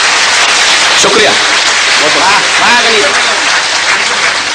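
Audience applause at a Hindi poetry recitation event, loud steady clapping filling the whole stretch, with a voice speaking over it.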